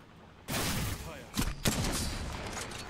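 A sudden burst of close gunfire in Apex Legends erupts and keeps going, with a couple of sharper individual shots standing out near the middle of the stream.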